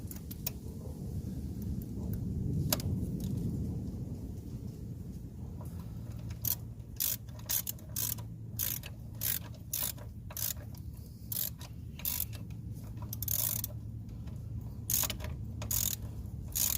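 Upper balljoint bolts being driven on a 1999 GMC Yukon 4WD with a ratchet, a long run of quick, close metallic clicks in short bursts and pauses over a faint background hum.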